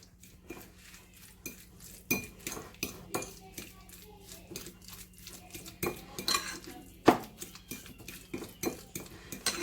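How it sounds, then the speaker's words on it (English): A spoon clinks and scrapes against a bowl as egg mayonnaise is stirred, with irregular sharp taps and scraping strokes close up in a quiet kitchen. "And I'll mix that in."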